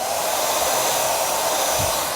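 A handheld hair dryer blows hot air steadily onto hair while it is being styled, a close, even rushing whoosh holding at constant loudness throughout with no talking.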